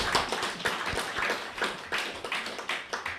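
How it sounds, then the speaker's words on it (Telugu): Applause from the audience at an indoor meditation gathering, a modest scattering of hands clapping in an irregular, continuous patter at low volume, without talk. "మరొకసారి క్లాప్స్."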